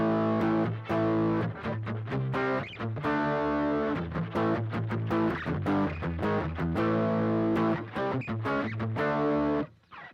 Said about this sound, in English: So this is the Super Overdrive